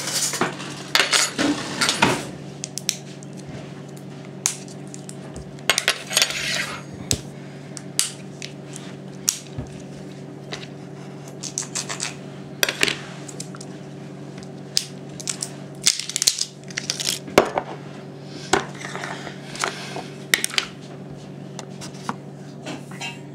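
Metal spoons and cutlery clink and rattle against one another in repeated bursts while a spoon is fetched for stirring a drink, close and fairly loud over a steady low background hum, with no talking.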